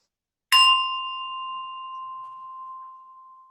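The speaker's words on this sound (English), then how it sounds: "I'll just ring the bell once more." A single bright bell strike rings out, its clear tone sustaining and slowly fading over a few seconds in otherwise quiet surroundings.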